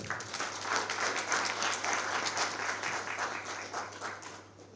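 An audience claps at a book depot anniversary function honouring an author of 105 books, a full, fairly loud round of applause that stays steady and then tapers slightly at the end, with a low hum beneath it.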